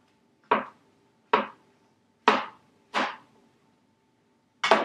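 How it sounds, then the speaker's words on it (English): A knife cuts through a dryad's saddle mushroom (Polyporus squamosus) on a board, five crisp separate chops at an uneven, unhurried pace, close and clear against a quiet background. "And I'll just show you what it looks like sliced open."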